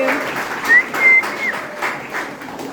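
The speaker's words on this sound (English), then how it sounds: "Please give them an applause for their courage and generosity in accepting this joy." Applause for national art prize finalists at an exhibition opening night: close, steady clapping with a couple of short whistles cutting through.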